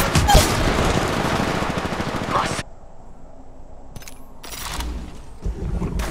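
Gunfire in the mobile battle royale game Apex Legends Mobile: a dense burst of rapid automatic shots, then a quieter stretch with a few scattered short bursts and impacts under game noise.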